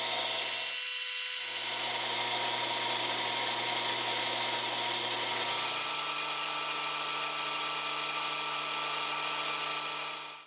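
Brass stock is cut on a machine to make a vise stop, a loud, continuous metallic whine and hiss whose pitch steps down partway through and then holds steady until it cuts off.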